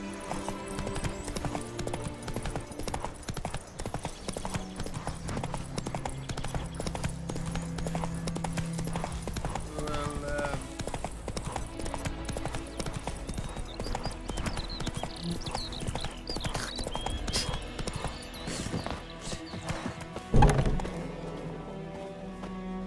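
A horse gallops in the video game The Witcher 3, its steady rapid hoofbeats continuing throughout over game music and ambience, with a sharp thud near the end.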